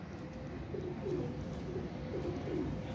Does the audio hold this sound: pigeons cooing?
yes